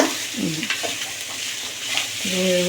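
Garlic and ginger sautéing in a hot pan for a traditional thuvaiyal, a steady close sizzle broken by stirring scrapes and a few brief tonal clinks.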